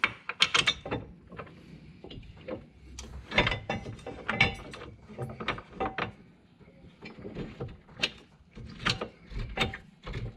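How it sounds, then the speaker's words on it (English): A hand ratchet with a 21 mm socket tightens the large caliper bolts on a C5 Corvette, with repeated quick clicking bursts and pauses between strokes, close and clear with no talking. "again, that's a 21 millimeter socket. I'm just going to tighten it up."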